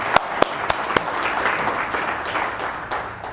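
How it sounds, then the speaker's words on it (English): Applause fills a room at a business school awards banquet: a steady wash of many hands clapping, with a few sharp, close claps standing out at the start, holding evenly throughout. "Give him a really big round of applause."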